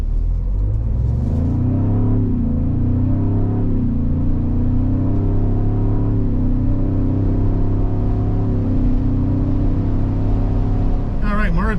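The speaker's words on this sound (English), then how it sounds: "we'll do a 0 to 60 acceleration to see how this thing pulls down the road with this EcoBoost engine" 2023 Ford Bronco Outer Banks with an EcoBoost engine accelerating from 0 to 60, a loud, steady engine drone that rises in pitch through the gears, close up from inside the cabin.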